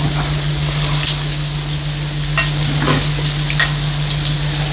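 Liver fries on a Thai mookata grill, a loud, steady, close sizzle and crackle with occasional sharper pops and utensil scrapes over a constant hum.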